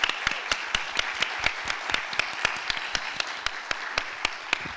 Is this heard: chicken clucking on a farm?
no